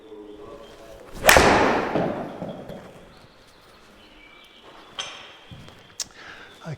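A golf ball struck with a 4-iron fitted with marking tape on the clubface, a single sharp crack followed by a fading ring, then a few faint knocks and thuds nearby.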